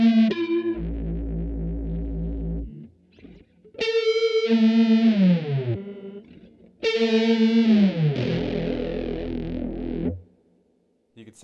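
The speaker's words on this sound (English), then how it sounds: "when you put like a chorus with maybe a lot of rate and depth" Electric guitar notes through a chorus pedal set to high rate and depth, heavily warbling and wobbling with distortion, played in three sustained phrases with brief gaps between.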